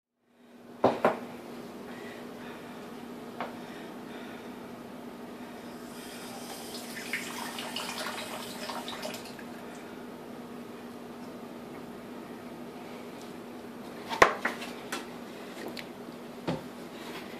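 Water is poured into brownie mix in a home kitchen, a quiet running trickle with a few sharp clatters of utensils or a container before and after.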